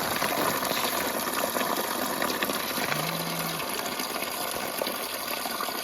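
Spring water flows steadily outdoors in freezing February weather in Ukhta, Komi Republic, a continuous gushing rush with a brief low tone partway through. Nobody speaks.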